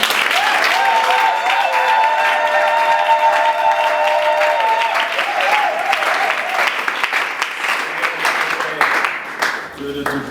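A church congregation at a memorial wake breaks into sustained, dense applause, loud and close, with a voice or sung tones carrying over the clapping before it thins out near the end.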